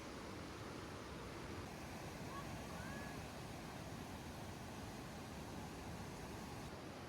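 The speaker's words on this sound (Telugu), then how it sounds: "ఇలా రివర్ ఫ్లో అవుతూ ఉంటుంది కాబట్టి మంచిగా వాటర్ సౌండ్ వస్తుంది" The Niagara River flows steadily, a broad even rush of water that carries on without a break, with no one speaking.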